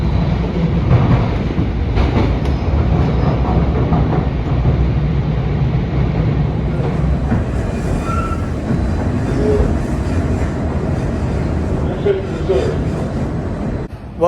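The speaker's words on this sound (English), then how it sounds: "There are only 4 interstate transit systems in the US, and out of those 4, this is the only light rail." Light rail train rolling across the Mississippi River bridge between two states, a loud continuous rumble and rattle of wheels on track with faint squeals, heard from inside the car.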